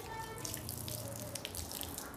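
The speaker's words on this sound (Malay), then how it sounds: "Air terlalu besar. Saya kecilkan air." Water runs steadily from a hose during a car wash, a continuous close hiss and splash with no pauses and no talking.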